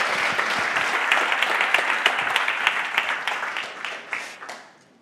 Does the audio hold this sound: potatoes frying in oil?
no